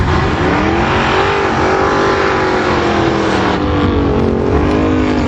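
Two drag race cars launch down the strip together, a loud continuous roar with engine tones climbing and rising as they accelerate away.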